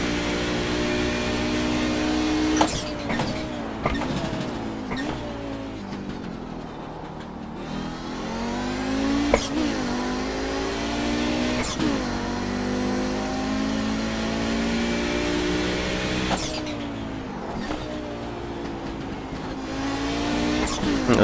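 Audi GTO race car lapping Summit Point in the iRacing sim, its engine revving hard and steady through gear changes with sharp shift blips and occasional tire squeal, loud and close, with a voice talking over it at times.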